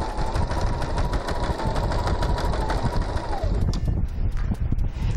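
A sewing machine runs steadily and loudly, stitching a zigzag along the edge of elastic. Its rapid mechanical needle rhythm continues for several seconds, then slows and stops near the end.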